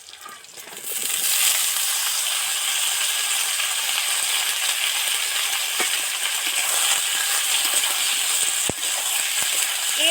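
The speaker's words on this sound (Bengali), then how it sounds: "এবার এর মধ্যে আলুটা আর টমেটোটা উঠিয়ে দেবো" Potato and tomato go into hot frying oil after eggplant for a Bengali fish curry, giving a loud, dense, continuous hiss of sizzling that starts within the first second and holds steady, with a few faint clinks.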